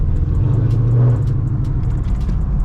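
A loud Ford Mustang with a 10-speed gearbox drives along a mountain road, its engine giving a close, heavy, steady rumble that swells slightly in the middle, with no voices.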